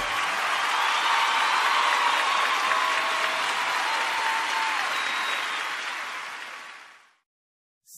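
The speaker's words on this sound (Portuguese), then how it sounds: "Erga suas mãos de novo e aplaude de novo." A church congregation claps together in steady, dense applause that holds at full strength for several seconds, then fades and stops near the end.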